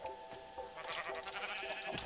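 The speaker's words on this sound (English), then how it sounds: "Oh, sheep." A sheep bleating in Minecraft, a short wavering bleat that is continuous and moderately loud, with game ambience underneath and no talking.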